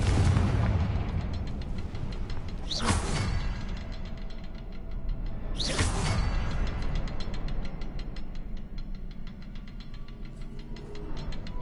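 Two loud Confringo blasting-spell explosions burst out in a Harry Potter video game, each a sharp broadband boom about three seconds apart, ringing over a dense, continuous backdrop of game music and ambience.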